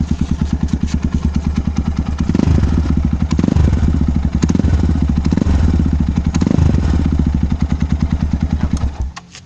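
A Honda CR5 200 motorcycle fitted with a Comet FS2SS exhaust, revved close up: a deep, loud, throbbing engine note that surges in repeated throttle blips over a steady idle rumble before cutting off at the end.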